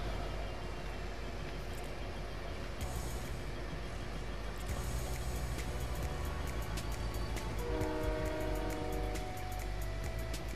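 Train ride inside the Fortnite video game during a Zero Build Duos match: a steady rolling rumble with rhythmic clacking and a brief hiss like air brakes, loud and continuous, with layered game music tones partway through.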